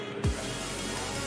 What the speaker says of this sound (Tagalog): Alcohol, spray alcohol,